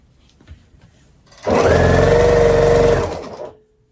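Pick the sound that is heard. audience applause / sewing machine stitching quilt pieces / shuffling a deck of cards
sewing machine stitching quilt pieces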